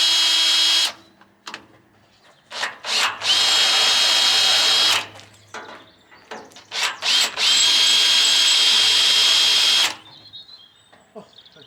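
Power drill on a narrowboat fit-out, running in long sustained bursts with short stop-start blips between them, loud and close, with quiet gaps and no talk.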